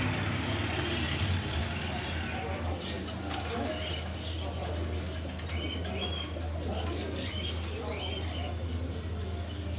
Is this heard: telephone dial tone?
no